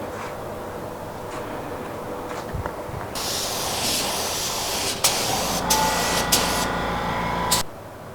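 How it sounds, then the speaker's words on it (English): Faint background hum, then a loud, steady spray hiss starting about three seconds in with a few brief pulses, cutting off near the end, as a paint spray gun run from a small compressor lays another coat on a car. "we're going to put one more coat on this"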